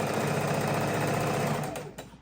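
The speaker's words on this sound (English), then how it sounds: "I'm going to hold these 2 pieces as I start, and that way I will not lose my thread again. And just a couple of stitches and it'll stay put." A home sewing machine runs steadily, stitching baby quilt border pieces together in a continuous close, even whir, then slows and stops near the end.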